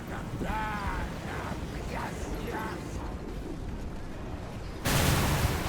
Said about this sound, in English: going to make it very nice for that explosion ability